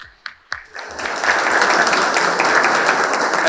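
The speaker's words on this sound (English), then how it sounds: "a big round of applause for all of you" Participants at a corporate forum applaud. A couple of isolated claps grow quickly into loud, dense, sustained applause from a sizable audience.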